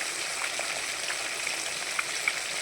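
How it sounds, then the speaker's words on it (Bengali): Fish frying gently in a pan, meant to be softly fried and later cooked with mustard paste, tomato and potato. A quiet, even sizzle runs throughout with a few small pops and ticks. "আমি একটু নরম নরম করে ভাজবো, একটু কড়া করে ভাজবো না"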